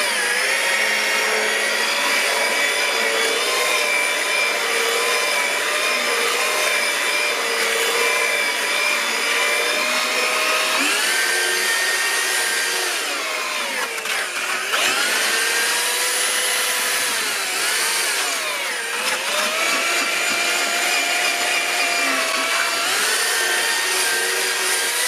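A power mixer churning concrete countertop mix dosed with superplasticizer, a loud continuous motor whine that dips and recovers as the load shifts, with no voices.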